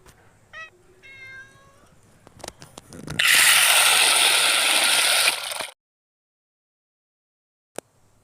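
A cat gives a couple of short meows early on, followed by a loud burst of rattling, grinding noise, then silence and a single click.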